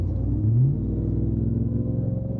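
A Ram TRX truck engine idles and revs around 1,500 RPM, a loud, close, low rumbling drone with a brief rise in pitch early on before settling into a steady throb.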